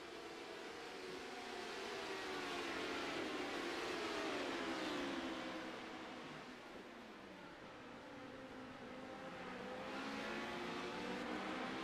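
A race car on fresh tires passes by during a circuit race, its engine drone rising and falling in pitch as it sweeps past, fairly faint and distant, with further engine noise swelling again afterward.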